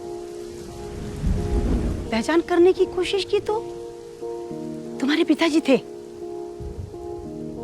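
Stage sound effect of heavy rain and rolling thunder on a tin roof during a Hindi theatre play, steady downpour throughout with thunder swells, while someone speaks over it.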